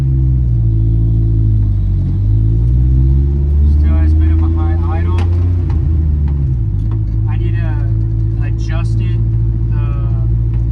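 A Nissan Hardbody pickup with a newly swapped carburetor drives on a test run, its engine droning steadily with gear changes and rising and falling revs, loud and close inside the cab.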